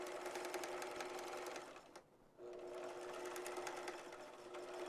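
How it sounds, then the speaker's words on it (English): A sewing machine stitches vinyl with a steady, close, fast-running mechanical whir, stops briefly, then resumes for a short back stitch. "it might be a smidge easier for you to start at the folded edge and sew out to the open edge"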